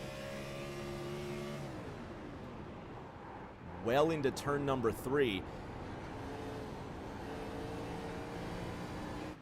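A race car engine drones steadily through turn three of a simulated iRacing event at Rockingham, pitch dipping as the driver lifts, while a commentator talks briefly over it mid-stretch.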